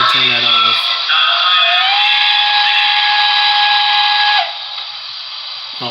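Grade crossing whistle on a model Pennsy L1s steam locomotive, a BLI diecast hybrid: a loud, sustained chime whistle that holds for several seconds, then drops in volume and trails off, heard close with no talking.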